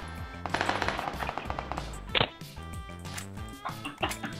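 Gunfire in PUBG rattles out in rapid automatic bursts, with sharp cracks and a louder shot partway through, over in-game music and background noise.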